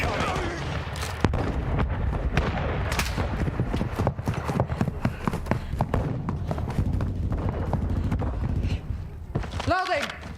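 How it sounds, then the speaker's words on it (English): Mortar strike explosions in Call of Duty Warzone, heard as a series of sharp booming impacts and cracks close by. Game voices and player chatter run underneath. "Hostile mortar strike incoming."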